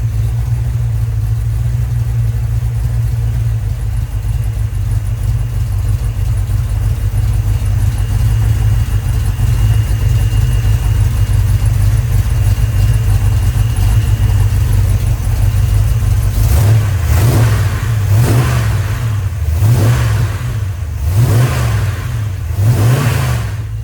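A Mopar 318 V8 from Rock Auto on its first start-up, idling loud and steady before rising into a series of throttle blips and revs near the end, with no talking.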